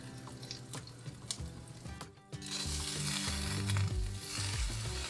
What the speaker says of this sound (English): To test if the oil is hot, add a couple of grains of rice, and if it sizzles,